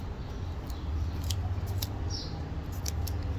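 Scissors make several quick, close snips through tape stretched across a car emblem, above a low steady background hum.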